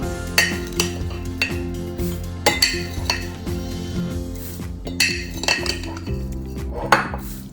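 Dry ingredients such as rolled oats going into a mixing bowl for vegan oatmeal chocolate chip muffins, with repeated close clinks of a spoon and dishes knocking against the bowl.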